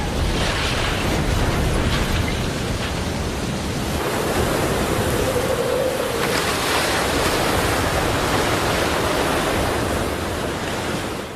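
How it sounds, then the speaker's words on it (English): Hurricane-driven storm surge waves from the open sea roar loudly and continuously as a dense wash of surf and wind noise, with no voices. "The hurricane's sheer wind power drives waves from far out at sea"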